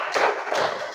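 A group claps together in a counted rhythm as a classroom ice breaker, producing two broad, fairly loud clap bursts close by with no talking.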